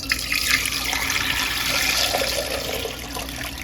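Warm water pours steadily from a tap into a pot holding four large eggs, a continuous rushing splash with no voices.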